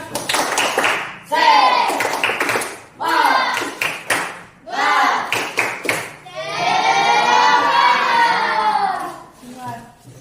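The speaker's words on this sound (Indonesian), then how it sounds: "Coba tepuk semangat dulu." A class of children performs a rhythmic spirit clap in a classroom, several bursts of clapping and chanting voices separated by short pauses, then one longer burst near the end.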